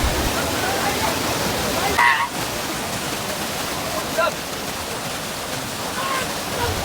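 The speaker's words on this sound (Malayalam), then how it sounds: "ഈ രണ്ട് കെട്ടിൻ്റെ നടുവിലൂടെ വെള്ളം വരുന്നത് കാണുന്നില്ലേ" Steady broadband rush of river water flowing between two concrete check dams on the Kottappuzha near Nilambur, continuous and fairly close, with a brief louder splash around the two-second mark.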